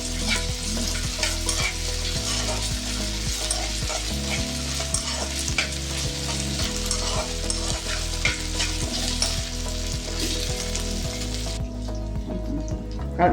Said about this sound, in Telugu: ఇప్పుడు అల్లం చిన్నులపై వేసుకున్నాం. పచ్చి వాసన పోయే వరకు వేయించుదాం.